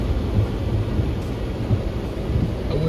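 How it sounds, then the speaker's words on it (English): Rain falls around a car in St. Augustine, Florida, a dense, steady wash of drops with low rumbling underneath, continuous and close. "I wish the rain would stop."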